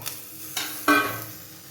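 Grated coconut frying and being stirred in a new clay pot, heard as a close, steady sizzle broken by a few scraping stir strokes, with no talking.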